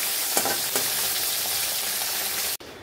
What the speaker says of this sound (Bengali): এই যে মাছটাকে এবার ভেজে নেব ভালো করে